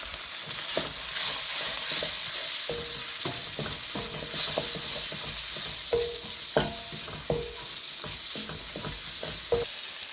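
Fried okra being mixed into red chili powder and turmeric in a hot pan over high flame, with a constant sizzle beneath frequent clattering, scraping stirs of a utensil against the metal pan, close up and without speech.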